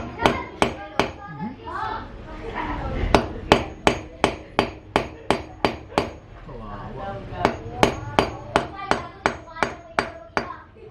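A wall anchor being hammered into a wall for a boxing wall mount, with a run of sharp, evenly spaced hammer strikes, close and loud, pausing midway while someone talks before the blows resume.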